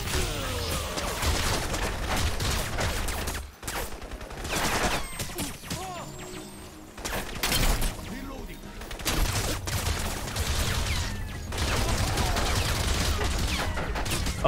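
Dense gunfire rattles through Crysis Remastered combat, with sustained automatic bursts and crashing impacts, close and loud, and brief pauses between volleys.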